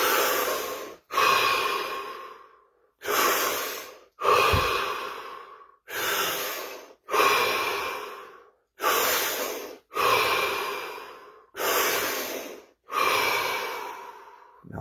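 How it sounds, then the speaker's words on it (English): A guided breathing session: deep, slow breaths come one after another in a steady rhythm, each a long, close, airy inhale or exhale separated by short silences, with no talking. "5 deep breaths, followed by 30 seconds, absolute stillness and silence."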